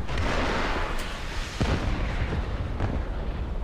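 Heavy cannon fire from tanks in War Thunder, including an Abrams battle tank: a dense, rumbling battlefield din with several loud booming shots, one near 1.6 seconds and another near 2.8 seconds.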